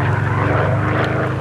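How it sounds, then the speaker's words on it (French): Propeller reconnaissance aircraft flying low beneath cloud cover in WWII archive footage from the Battle of the Ardennes, a loud steady droning engine roar with a pulsing propeller hum that holds constant throughout. "C'est un avion de reconnaissance volant sous la couverture nuageuse qui repère la colonne Piper en mouvement vers Cheneux."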